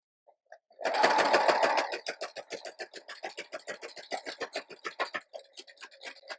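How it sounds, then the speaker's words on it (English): A sewing machine stitches through a paper envelope for a junk journal, starting with a dense whirring burst, then running in a fast, steady train of close mechanical clicks with no talking. "so that I don't sew it together in the wrong place"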